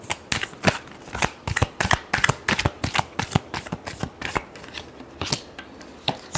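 Tarot cards being shuffled by hand in a rapid run of crisp, close riffles and slaps, an irregular burst of sharp card strikes with no talk.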